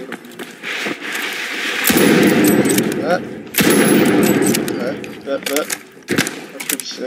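Gunfire in the online shooter The Finals, two heavy sustained bursts with sharp cracks and mechanical clicks in between, close and loud, with a player talking over it.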